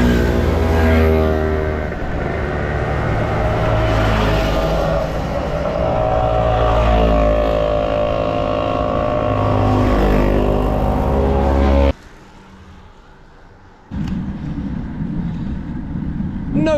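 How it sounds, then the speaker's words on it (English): Several vintage mopeds pass close by with a loud, buzzing two-stroke engine drone that holds steady for about twelve seconds, then cuts off abruptly before a quieter engine hum returns. "Oh, more mopeds."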